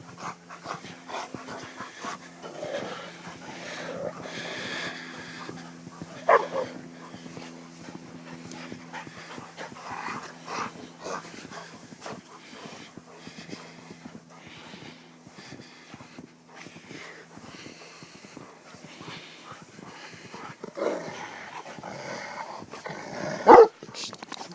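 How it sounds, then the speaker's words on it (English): Several dogs, one of them blind, play in the snow after an April 2012 snowstorm, panting steadily with a few scattered barks and whimpers close by, while a person talks now and then. "Here's my blind dog."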